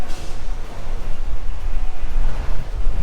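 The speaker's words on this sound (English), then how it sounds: "I figured while I have the grill off, I might as well power wash." A power washer blasts the front of a 1970 Ford F250 with its grille removed, producing a loud, steady, rushing spray of water with gusty fluctuations and no talking.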